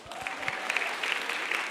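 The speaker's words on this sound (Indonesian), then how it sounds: "Tepuk tangan dong, tepuk tangan." A studio audience at a stand-up comedy show claps steadily in a short burst of applause, mid-distance, with faint voices mixed in.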